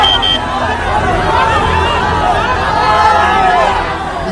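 Big, noisy crowd of supporters at a Power Star Pawan Singh road show in Danwar, Karakat, out in the sun, keeping up a steady babble of many voices with a reporter speaking over it.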